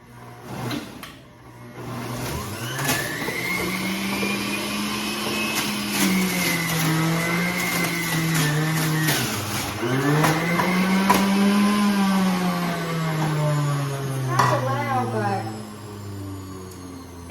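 A Brielle 2-speed fountain juicer grinds carrots and ginger with a loud, steady motor whine that rises and dips in pitch as produce is pushed through, running continuously near the listener.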